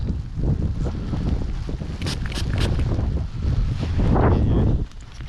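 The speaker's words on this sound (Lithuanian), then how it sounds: "Ir vėjas, ir lietus." Wind and rain outdoors, heard as a steady, loud rush of wind buffeting the microphone with low rumbling gusts and no talking.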